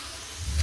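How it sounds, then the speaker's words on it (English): The engine of a 2018 Toyota Tundra truck cranks and catches in a brief, close start, a low rumble swelling near the end of the short burst. "So you want to start the truck."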